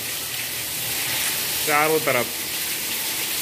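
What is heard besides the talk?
rainwater pouring from the roof during Delhi rain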